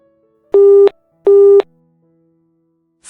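Phone line tone after the other party hangs up: two loud, steady beeps of equal length about half a second apart, then silence, with no voices present.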